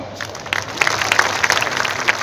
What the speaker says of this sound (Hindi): तो ढंग से तालियां बजाओ।